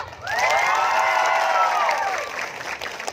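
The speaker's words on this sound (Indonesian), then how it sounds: "Coba, aku nak dengar lu tepuk tangan yang mana?" A school arts-show crowd in Palembang cheers and claps loudly, with high whoops and shouting rising over steady applause for about two seconds before easing off.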